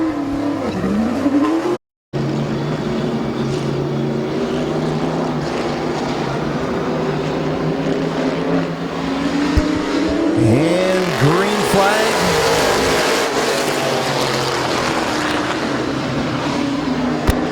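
Race cars thunder around the track at Midvale Speedway during a 2018 feature race. Loud engines roar and rise and fall as the cars pass close by, with tires squealing and one short dropout partway through.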